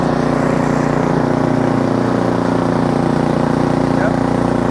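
Ariens Platinum 24 SHO snowblower engine running steadily in second gear, a constant loud mechanical drone with a low hum and even tone throughout, no change in pace.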